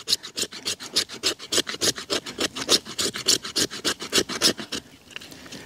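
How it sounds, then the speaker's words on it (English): Beavercraft BSH3 bushcraft knife scraping fat wood up close, with quick, even rasping strokes repeated steadily, about five per second. "Will it do the same thing for fat wood?"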